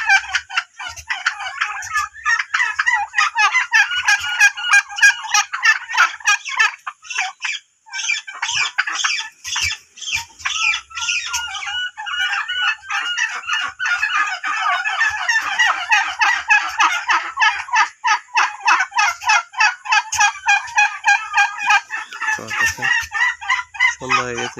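A flock of farm turkeys gobbles almost continuously at close range, overlapping rapid gobbling calls mixed with chicken clucks, loud and dense throughout.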